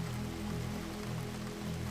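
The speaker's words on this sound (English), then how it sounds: "The rain continued its steady percussion against the windows and roof" Steady rain patters against the windows and roof of a cozy cottage bakery, a soft, even, continuous wash of drops with no talking.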